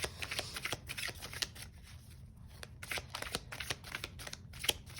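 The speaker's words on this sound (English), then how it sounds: "Stay here for a few seconds while I shuffle these cards." A deck of playing cards being shuffled, with repeated quick riffling bursts and snaps close by, steady throughout with a brief quieter pause in the middle, no talking.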